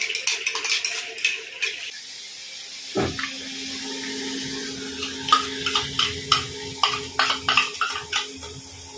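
Poppy seed and cashew paste is stirred in a pan, a rhythmic series of soft scraping and knocking strokes with a faint hum in the background, close and moderately loud.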